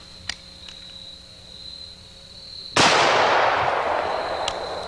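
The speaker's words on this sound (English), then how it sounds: "let's try our AR-15. Full metal jacket bullet first." An AR-15 rifle fires a single full metal jacket round outdoors, one loud sharp crack followed by a long decaying echo, preceded by faint clicks over a steady background hum.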